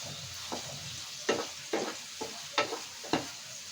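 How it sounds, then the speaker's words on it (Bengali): Eggplant slices with turmeric fry in a pan, a close background sizzle broken by five or six sharp scraping stirs from a utensil, each a brief burst of rustling crackle. "বেগুনগুলো এমনিই নরম, বেশি সময় ভাজতে হবে না।"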